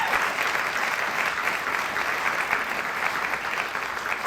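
Steady, dense applause from a festival audience for a storyteller at a storytelling event, loud and sustained without a break, no voices standing out.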